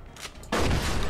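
Gunfire from the video game Mafia 2, a burst of loud shots that grows denser and heavier partway through, with no talk over it.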